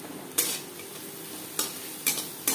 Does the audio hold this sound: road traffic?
no